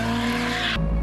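A car drifting on a public street, tires squealing loudly and continuously under engine roar for about a second before the screech cuts off abruptly into a lower rumble.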